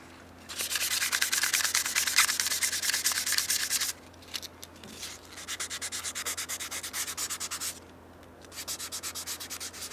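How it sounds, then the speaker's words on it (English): Rough, hissing sanding of a wooden whistle on a lathe, with the grain, in three long bursts separated by short pauses, over a steady low machine hum. "I'm just going to sand with the grain"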